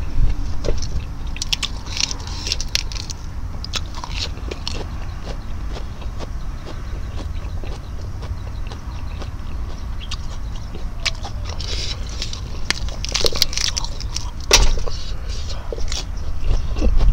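Crunchy chewing of fresh vegetables such as young lead tree shoots eaten with oysters and seafood dipping sauce, steady close-up mouth crunches over a constant low rumble, with no clear talking.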